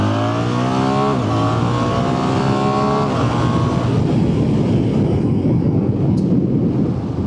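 A BMW R1300GS motorcycle engine blasts loudly under hard acceleration while riding, rising through revs with a gear change, then settling into a steady roar mixed with heavy wind rush.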